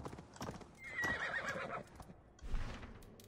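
A horse in Assassin's Creed Valhalla trots with rhythmic clip-clopping hooves and lets out a whinny, fairly quiet and close, with no talking over it.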